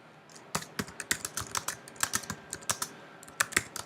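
Rapid, uneven keystrokes on a computer keyboard, close and clear, each press a crisp click with short pauses between bursts while text is typed into a screen-capture annotation; no talking.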